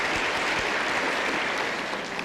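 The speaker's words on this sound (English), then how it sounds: "Does that applause come out of my time?" Sustained audience applause at the 1984 Democratic presidential debate, a dense, even wash of many hands clapping that holds steady throughout, loud and unbroken by speech.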